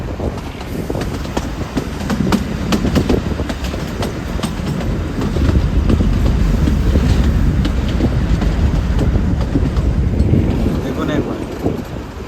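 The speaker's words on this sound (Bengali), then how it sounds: "ও ঝিকঝিক চলছে পাইন ওয়ানের মধ্য দিয়ে।" The Shimla–Kalka toy train rumbles through a pine forest with steady loud rolling noise and rhythmic clickety-clack of the wagons, while voices talk faintly underneath.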